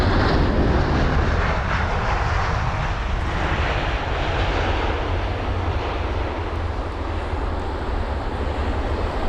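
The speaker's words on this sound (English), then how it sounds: "this is going to be the Virgin 350-1000 from Miami, flight number VS6" Virgin Atlantic Airbus A350-1000 jet arriving at London Heathrow on a windy day, a loud, steady, broad engine roar that holds close and constant throughout, with no voices.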